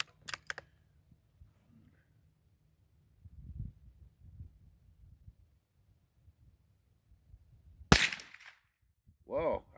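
.22 LR rifle shots with Remington Thunderbolt ammunition outdoors: a sharp nearby crack near the start, another loud report around the eight-second mark, with quiet handling noise between and a short voice at the end.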